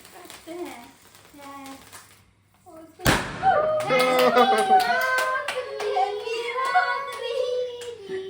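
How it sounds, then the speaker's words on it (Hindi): A small family group celebrating a new job breaks into lively hand clapping, close and irregular, after a short stretch of talk, with voices continuing over the applause. "ताली बजाओ सब लोग कांग्रेचुलेशन"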